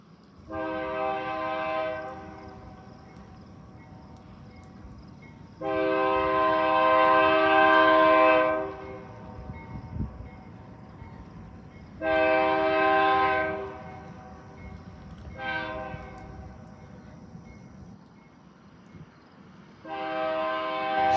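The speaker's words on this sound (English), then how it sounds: "There's the train." A train horn sounds in several long blasts, separated by pauses, over the steady low rumble of a passing train during a severe thunderstorm in Garretson, South Dakota.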